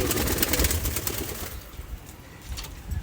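Local Giribaz pigeons of Rajshahi released by hand, a busy burst of wingbeats and soft bird sounds close by for the first moments, then fading to a quieter outdoor background.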